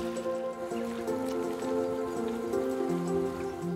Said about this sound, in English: So this is the King's River